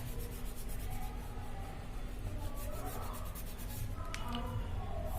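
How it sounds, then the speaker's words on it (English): Pencil scratching across paper while a perpendicular bisector is drawn, soft continuous rubbing strokes over a steady background hum, with a couple of brief sharper ticks near the end. "I am drawing this again."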